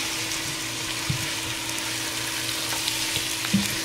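Peppers, carrots, celery and onions sautéing in oil for a Bermuda-style fish chowder, a steady broad hiss of frying with occasional faint knocks of stirring, continuous and even.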